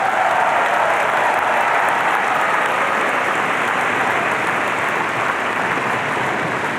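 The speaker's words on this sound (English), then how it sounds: "Let's give a round of applause to the PhD graduates." Sustained applause from a commencement audience honoring PhD graduates, a dense, even wash of clapping filling the hall for several seconds with no pause or speech.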